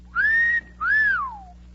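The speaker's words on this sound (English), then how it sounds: "It'll have you whistling like you never whistled before." A person whistles in a radio drama, producing two clear, close notes: a held tone, then a rising and falling swoop that trails off.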